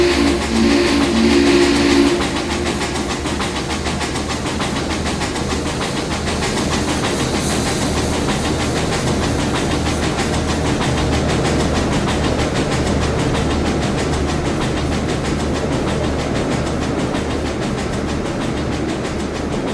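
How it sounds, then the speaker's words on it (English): The A&WP 290 freight train rolls south on Norfolk Southern track past the World Congress Center offices, a loud continuous rumble of wheels and cars with a brief horn-like tone at the start. "the train proceeds south past the World Congress Center executive offices"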